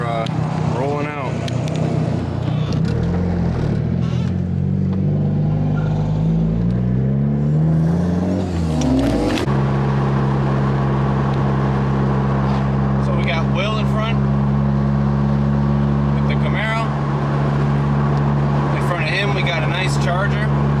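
A turbocharged Honda Accord pulls away from a car show, its engine droning steadily with a rising rev before settling into a sustained low hum; voices talk over it.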